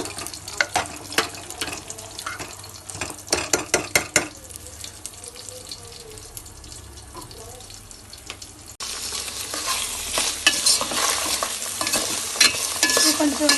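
Tempering for spinach dal with tamarind, chilli powder and turmeric: a spoon stirs and scrapes in a pan with rhythmic knocks at first, then a louder, brighter sizzle of frying takes over in the second half.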